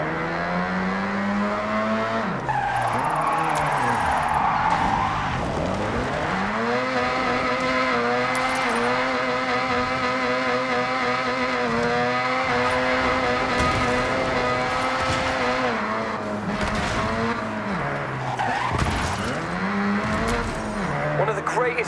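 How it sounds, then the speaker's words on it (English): A car in Forza Horizon 6 skids with its tires squealing over a loud, revving engine whose pitch repeatedly swoops up and down, close and continuous throughout. "just skidding."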